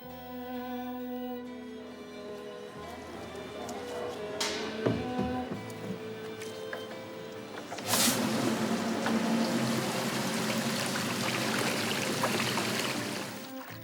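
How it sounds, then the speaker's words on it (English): Water pouring into the tank of a document restoration machine, filling it up to the support screen: a faint, steady stream with splashing that grows louder and fuller partway through, no talk. "filling the machine with water up to the support screen"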